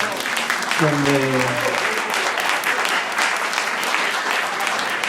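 Audience applause after a talk at a Spanish-speaking cyber-recycling club meetup, dense steady clapping filling the whole stretch, with a brief voice and a short tonal sound near the start.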